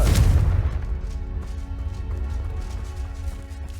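A Confringo fire spell explodes in Hogwarts Legacy. A deep, heavy boom hits at the start and then rolls off into a long, rumbling decay with faint crackles.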